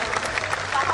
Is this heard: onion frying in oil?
no